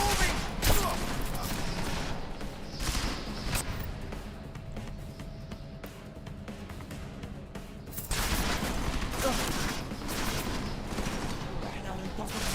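Gunfire in a Deus Ex: Mankind Divided firefight, loud sustained automatic bursts and sharp shots crackling in waves, with heavy volleys at the start and again after a quieter middle stretch.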